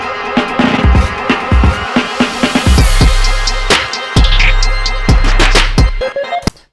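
A hard-clipped, punchy drum break in an Ableton-produced beat, with booming kicks and crisp snares hitting in a steady groove over dense, loud, compressed layers.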